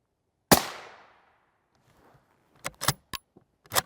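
A single sharp gunshot strikes a Grey Ghost Precision Level III NIJ certified armor plate, a loud crack with a short decaying ring, followed after a pause by several quieter metallic clatters and knocks.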